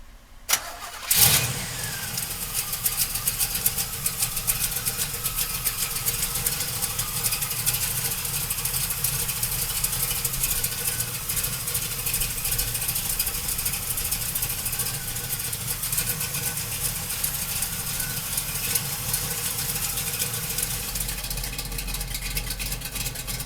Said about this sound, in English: let's fire this big block up